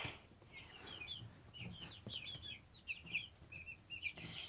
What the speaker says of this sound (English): Now this here is where the bigger chicks are, and you can see that they have feathers on their heads and all over.